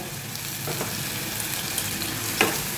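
Ginger paste and tomato paste sizzle and fry in a pan with cauliflower, a steady close crackle with a few sharper spits near the end.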